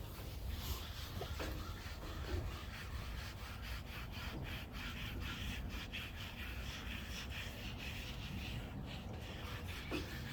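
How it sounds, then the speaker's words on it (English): A grooming brush strokes steadily through a horse's coat, breaking up sweat and old hair from the withers back to the cinch area, giving a continuous close scratchy rasp with rhythmic strokes and no talking. "This brush does tend to loosen up a lot of the dirt that is on their skin"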